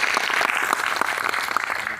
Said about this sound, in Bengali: একবার জোরদার হাততালি হয়ে যায়